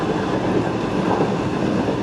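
V/Line N-set carriage train running at Geelong: a steady, loud rumble of wheels and rolling stock, continuous and close, with no voices.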